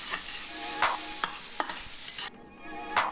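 Andouille sausage and squid browning in a hot pan, a steady close sizzle broken by a few sharp clinks and scrapes of stirring.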